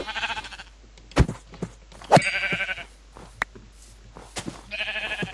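Sheep in the Minecraft video game bleat in short, wavering cries, one near the start, another in the middle and a third near the end, with quiet game sounds and soft thumps in between.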